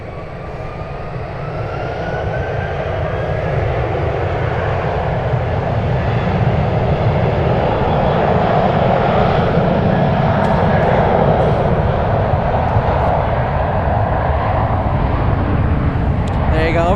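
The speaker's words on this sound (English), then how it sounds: "we have Air India right now taxiing" An Air India airliner taxies at San Francisco airport, its jet engines giving a loud, steady roar that builds slightly and holds throughout, with faint chatter in the background.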